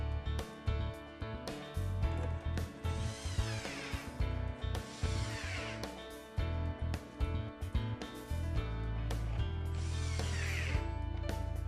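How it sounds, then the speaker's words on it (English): Long screws are driven into the pre-drilled holes of a wall cabinet, giving repeated ratcheting clicks and short whirring bursts from a driver, close and fairly steady over several seconds with no talk. "Then secure with 4 long screws into the pre-drilled holes."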